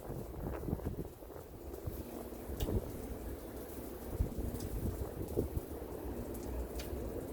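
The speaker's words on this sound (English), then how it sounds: "That's that wind, y'all." Steady outdoor wind gusting past a grill where turkey parts are being cooked, a broad continuous rush buffeting the microphone with rumbling swells and a few sharp knocks, no speech over it.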